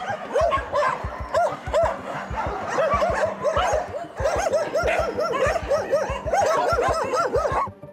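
A pack of stray dogs in Chișinău barks loudly and continuously, many overlapping yaps and barks close by in a fast, excited chorus with no talking.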